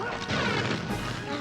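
Loud shattering crash effect in the Atlantis: The Lost Empire video game, a dense, bright burst of breaking sound lasting over a second, with a voice talking underneath.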